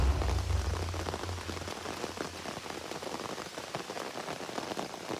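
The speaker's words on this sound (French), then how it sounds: "quand il pleut à verse" Heavy downpour in the Amazon rainforest, a dense steady roar of rain drumming on leaves and surfaces, continuous and close, with a low rumble fading early on.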